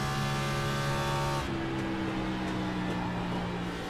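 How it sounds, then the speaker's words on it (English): Race car engine revving in the LSRL Xfinity series sim race at Homestead, heard from the onboard camera: a steady, loud droning engine tone that drops in pitch partway through as the throttle eases off. "Kind of revving that engine up there."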